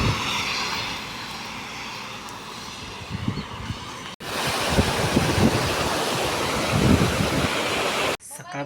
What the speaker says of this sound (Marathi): वाऱ्याचा आवाज तुम्हाला येत असेल. खतरनाक वारं मारला.